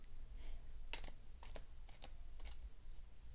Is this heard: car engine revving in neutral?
no